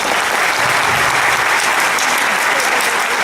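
An audience applauds at a book presentation, with dense, sustained clapping that fills the room from start to finish at a steady, loud level.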